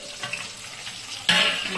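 Katla fish pieces fry in hot oil with a steady, close sizzle that swells into a louder burst of crackling near the end.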